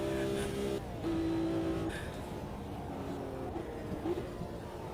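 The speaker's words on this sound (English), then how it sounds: "Sound like a Corvette." A race car's engine in the Automobilista 2 racing game, with a Corvette-like note, roars loudly and steadily throughout, its pitch rising and falling as it shifts and accelerates.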